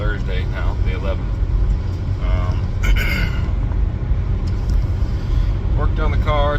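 A Pontiac Firebird with recent fuel-leak repairs drives along, giving a steady low engine and road rumble throughout, with a few faint higher tones over the top.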